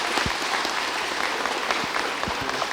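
An audience at an inter-school debate at Delhi Public School Srinagar claps for a speaker, making a sustained, dense round of applause with sharp individual claps standing out, loud and close throughout.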